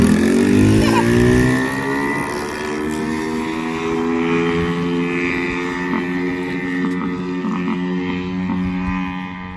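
A 110cc pit bike engine revs high and holds a buzzing, wavering pitch that climbs and settles, passing close, with a rough, popping edge throughout.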